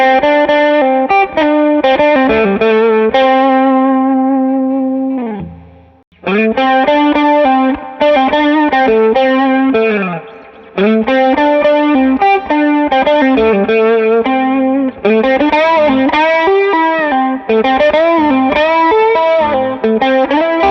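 Electric guitar lead solo through a TS10 overdrive pedal, later joined by a Boss CE-2 chorus, with sustained singing bent notes and quick phrases played loud and close, one brief pause midway.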